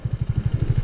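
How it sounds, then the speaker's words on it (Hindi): A motorcycle engine during a wheelie attempt on a Sunday group ride in Jammu, a close, loud, steady pulsing thump of firing strokes that quickens slightly. "डार्क स्पेक्टर फिर से व्हीली ट्राई करते हुए"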